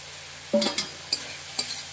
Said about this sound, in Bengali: এই যে চিংড়ি মাছ দিয়ে দিলাম, পটল চিংড়ি করতে গেলে মশলার সাথে চিংড়ি মাছটাকে ভালো করে কষতে নিতে হবে